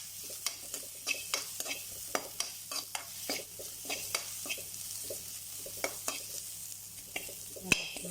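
Onion with crushed garlic and ginger frying in coconut oil while being stirred: a quiet, steady sizzle punctuated by a regular series of light spatula taps and scrapes against the pan, roughly two or three per second.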